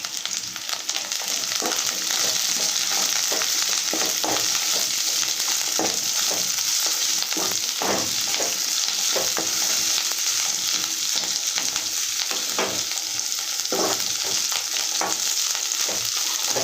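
Green chillies, chopped onion and curry leaves fry in hot oil in a pan for a curd charu, a loud continuous sizzle with scattered stirring scrapes close by.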